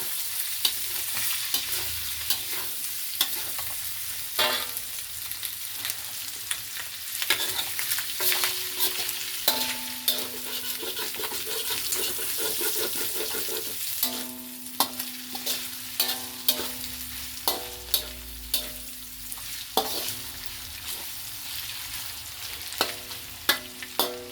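Pancit bihon noodles frying in a hot pan, oil sizzling and splattering steadily throughout with sharp pops and crackles, plus occasional utensil scrapes and stirring clatter close by; no talking.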